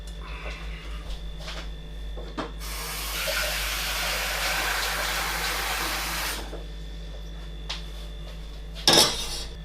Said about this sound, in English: I'm going to start by getting a pan and I'm going to put some water in it.